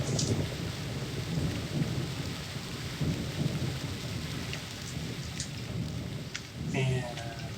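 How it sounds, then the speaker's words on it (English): Steady rain pours with low rumbling thunder in the video game Myst, a continuous dense hiss and patter throughout, with a brief tonal game sound near the end. "And when you come here, it's permanently raining."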